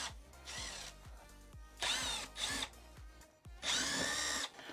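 Power driver backing bolts out of a gas tank on a brand new truck during a teardown, several close, loud whirring bursts that rise and stop, with short pauses and clicks between them.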